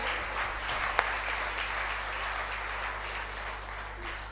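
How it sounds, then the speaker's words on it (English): Round of applause for the KSA office team at a Velosi Middle East ISO 17020 launch celebration, a soft, steady wash of clapping from a distant crowd with one sharp knock near the start. "A round of applause, of course,"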